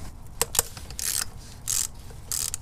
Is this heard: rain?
no